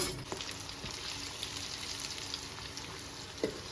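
Okra (vendakkai) frying in a pan for a Tamil-style varuval, a steady soft sizzle throughout with a couple of small pops near the start and end, fairly close and quiet, no voices.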